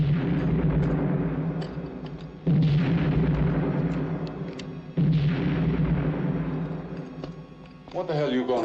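Gunfire and explosive bursts from a 1973 western film battle scene, with loud heavy blasts repeating over a dense, continuous roar of shots and rumble, abrupt new bursts arriving every few seconds.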